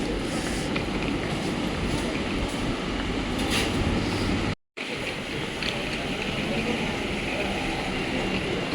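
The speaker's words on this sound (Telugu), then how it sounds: "ఇట్లా ఉంది మెట్రో లోపల" Inside a Hyderabad metro train, a loud continuous rumble and rushing hiss of the carriage in motion, broken by a brief cut midway, with no clear talk.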